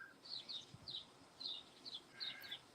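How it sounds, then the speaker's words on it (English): Faint bird chirps outdoors come in short, evenly spaced pairs and bursts, distant and thin against a quiet background. "You can hear the birds and stuff there, man, chirping."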